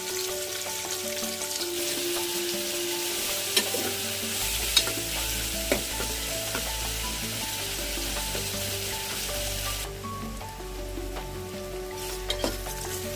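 Sliced onions fry in hot oil with a steady, close sizzle, punctuated by a few soft stirring clicks and light taps, continuous and alone without any talking.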